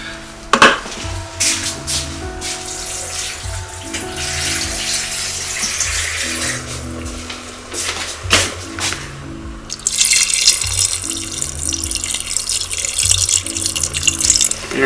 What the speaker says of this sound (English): And now I'm going to add just enough water so that everything's just barely,